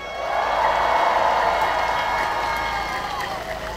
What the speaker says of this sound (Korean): 잘하라고 박수 한번 부탁드립니다